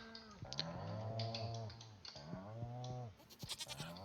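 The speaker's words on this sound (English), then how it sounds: "I really want my goat to be full grown" A goat on the farm in the video game Stardew Valley lets out two drawn-out, wavering bleats close by, followed by a few soft clicks.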